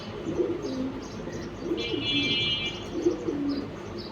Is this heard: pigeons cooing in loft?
yes